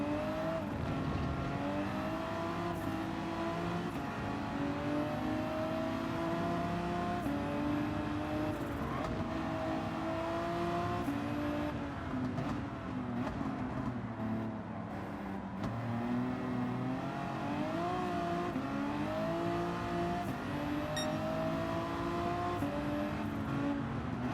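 Race car engine in the Gran Turismo 7 racing game, a loud continuous drone that rises and falls with acceleration through corners, steady throughout and running under occasional commentary.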